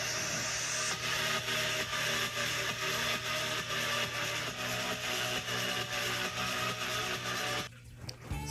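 The monster Seek from the Roblox game Doors: a dense, continuous droning rumble with rhythmic pulsing and harsh noise runs steadily, then cuts out abruptly near the end.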